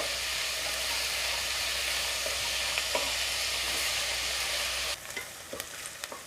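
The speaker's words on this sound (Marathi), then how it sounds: "कांदा चांगला परतून घ्यायचा आहे" Onions sauté in a pan for mutton curry, giving a dense, even sizzling hiss close by for most of the clip. The sound drops away sharply near the end, leaving faint stirring clicks.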